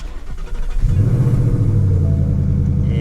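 A car engine cranks briefly and catches at under a second, then settles into a loud, deep, lumpy idle that burbles steadily with no speech.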